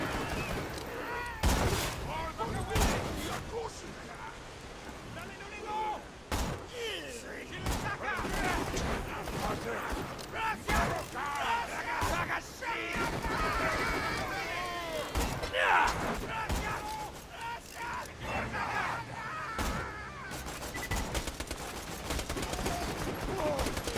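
Rapid bursts of turret gunfire in the shooter game Borderlands, loud and dense, with sharp volleys and impacts cutting through a busy battle mix while a voice talks over the action.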